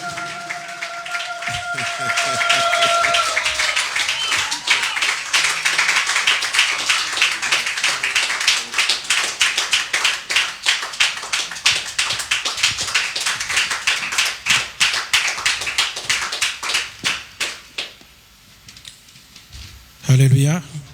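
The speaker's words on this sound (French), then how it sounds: "Sous vos applaudissements, pendant qu'il avance, nous acclamons le Seigneur notre Dieu" A church congregation clapping in rhythm, dense and loud at first, then thinning into uneven, sparser claps before fading out, with speech and other voices mixed in beneath.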